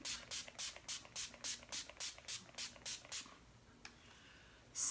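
A 10 Years Younger finishing spray mists onto a face as a run of about eleven short, soft, even hissing pumps. A quiet pause follows, then a faint tap and the start of another spray.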